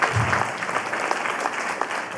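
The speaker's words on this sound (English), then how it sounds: "Round thank of applause to these guys" Audience applause for panel guests at a Halloween 35th anniversary horror fan event, a dense, sustained burst of clapping from a room crowd, loud and continuous for the whole moment.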